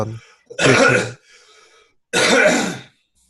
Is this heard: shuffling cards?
no